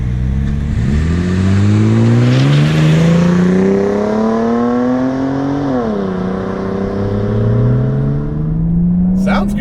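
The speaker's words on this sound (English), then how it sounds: "Sounds like a straight six." A 1995 Mercedes C36 AMG straight-six engine revs hard and close, pitch climbing smoothly through the gears, dipping at a shift, then rising again, loud and continuous throughout.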